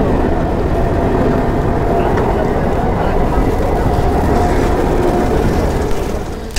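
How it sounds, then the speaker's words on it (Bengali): Train passing a level crossing near Kolkata, a loud sustained rumble and rattling roll that stays steady before easing off at the end, heard close by with no talk. "ট্রেন যাচ্ছে, ওয়েট করছি তো করেছি"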